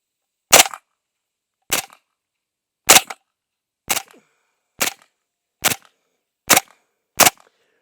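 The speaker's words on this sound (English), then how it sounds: "if I shoot right to the center of this thing" Eight sharp, loud gunshots fired at a target, evenly spaced about a second apart, each crack standing alone against silence.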